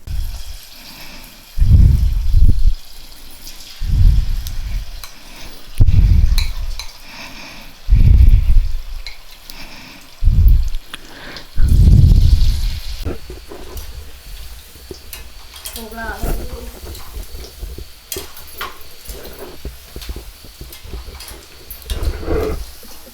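Battered cauliflower (gobi) frying in about 500 ml of hot oil in a pan for Gobi Manchurian, with loud, repeated bursts of bubbling sizzle as batter drops in, settling into a steady, quieter fry.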